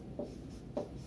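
Handwriting during a maths lesson on alligation and mixture problems: two short, soft scratching strokes of a writing tool, close and quiet, with no talking.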